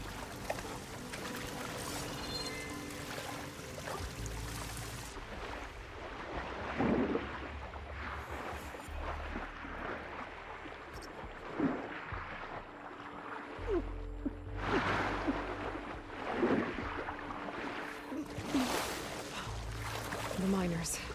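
Aloy wading and splashing through water in a mine in Horizon Forbidden West, repeated sloshing surges and swishes that rise and fall, close, with a person talking over them.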